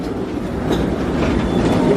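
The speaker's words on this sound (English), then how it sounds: "let's check out the train. There it goes." Disneyland train rolling past nearby, with a steady loud rumble and rhythmic clickety-clack of wheels on the track and no talk.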